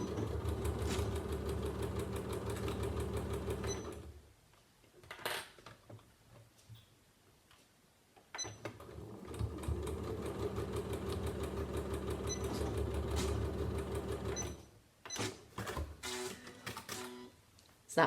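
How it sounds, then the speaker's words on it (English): A sewing machine stitches straight across a drawstring knitting bag in two runs, a close steady mechanical whirr that stops for a few seconds in between, followed by short bursts at the end. "I'm just going to sew straight across."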